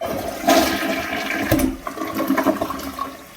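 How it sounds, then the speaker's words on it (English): A Mansfield Summit toilet flushes with a single press and release: a loud, close rush of water that swirls and drains for a few seconds, then quickly tapers off. "and you'll see how short the flush is"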